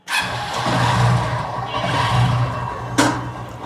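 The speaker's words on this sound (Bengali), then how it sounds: "তাহলে বাইক স্টার্ট দেই।" A motorcycle engine starts and settles into a steady idle on Mitali Road in Dhaka, close and fairly loud, with a sharp clunk near the end and no talking.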